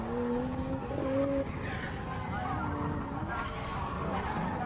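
An old Toyota Corolla drift car skids around a circuit in Kyushu, its tires squealing in high sustained tones over a steady engine roar, heard from a moderate distance.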